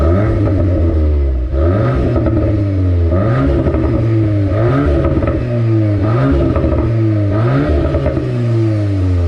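Volkswagen Golf R Mk8 with a manual gearbox, engine revving while driving in third gear, repeated rising pulls with audible shifts between them, loud and close with no talk.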